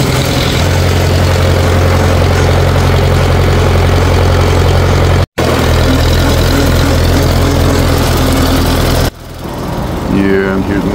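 A big diesel tractor runs hard while mowing 8 ft weeds, a loud, steady low engine drone that cuts out for an instant, then eases back near the end. Someone talks over it.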